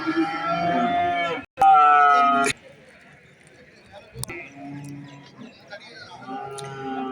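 Loud, drawn-out moos from a heifer close by at the Valliyoor cattle market, Tirunelveli, two long calls followed by lower grunts, with someone talking in between.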